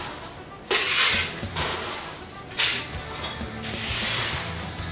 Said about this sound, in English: So put about 2 scoops of ice into our blender there.